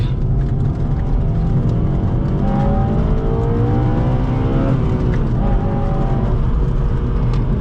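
A Honda Civic Si (8th gen) with a K20Z3 VTEC engine accelerates hard in second gear, heard from inside as a loud, continuous rising engine roar with steady revving and road noise, no voices.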